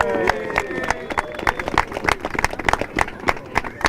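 Audience applause for a high school chamber choir and a group of children at a community event in Mentor, a dense wash of many hands clapping, fairly close and steady, with crowd voices murmuring through it.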